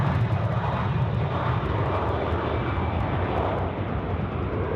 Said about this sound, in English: Vietjet Air departing,